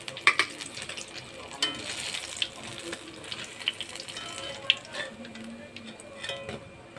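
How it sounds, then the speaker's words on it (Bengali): Stuffed pointed gourd fries in oil, a soft continuous sizzle with faint splashy crackles and occasional clinks of utensils, fairly quiet and close. "বাকি কটো এভাবে ভেজে নিচ্ছি।"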